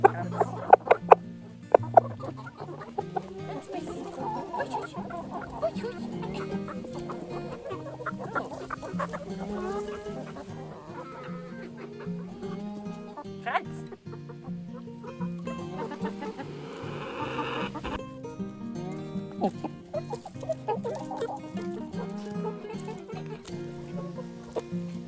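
Backyard chickens on a Nordic homestead in autumn cluck and chatter steadily at close range, a busy flock sound running throughout with no talking.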